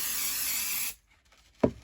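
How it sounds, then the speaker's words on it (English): An aerosol spray can hisses in one steady, bright close burst lasting just under a second, then cuts off abruptly, followed by quiet and a single soft knock. "So give it a quick spray."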